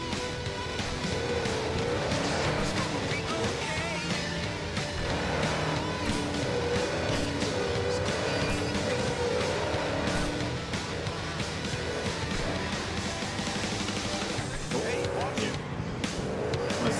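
A car in Cyberpunk 2077: Phantom Liberty driving hard with its engine droning steadily and tires squealing in repeated skids, loud and continuous, while a person talks over it.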